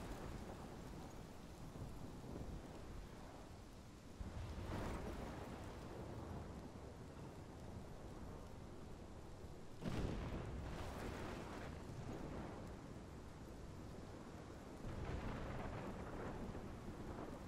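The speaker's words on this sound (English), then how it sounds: "This is my storm. I caused this." In the video game Life Is Strange, a thunderstorm pours steady heavy rain while thunder rumbles and cracks loudly at intervals, with no talk.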